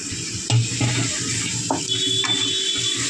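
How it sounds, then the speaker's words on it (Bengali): Spice paste with coriander powder and tomato is sautéed in a pan for a pomfret fish curry, with a steady sizzle broken by a few sharp scrapes and clinks of the spatula against the pan. "ভালো করে মশলাটা কষে নেব কষাবার সময় টমেটোটাও দিয়ে দিলাম"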